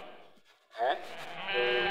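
Sheep bleat near a sheepfold in a loud, wavering call that swells and then holds on. Fainter animal sounds come before it, and the bleat rises sharply into the foreground.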